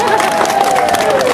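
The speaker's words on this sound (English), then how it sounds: "Give him a big round of applause." An audience at an outdoor water show claps and cheers loudly, with crowd noise and a sustained whistle-like tone over the clapping.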